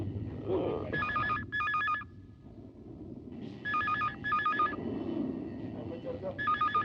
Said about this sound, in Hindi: फोन आया देख किसका फोन देख रहा